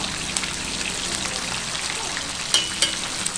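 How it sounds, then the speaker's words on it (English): Fish frying in a pan at home, a steady close crackling sizzle throughout with a couple of sharper pops near the end. "Fried fish"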